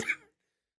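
A single short cough, close and sharp, fading to silence within a third of a second.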